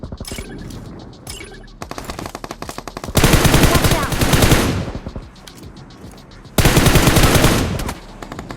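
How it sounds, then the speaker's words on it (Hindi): Rapid, loud automatic gunfire in bursts in BGMI (PUBG Mobile), with heavier sustained volleys breaking in between lighter shots. "अपने एक टीममेट के पास बहुत जोर से गोली चल रही होती है"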